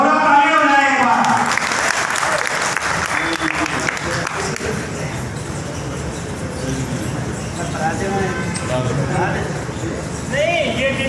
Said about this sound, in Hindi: तालियों बजाएं एक बार।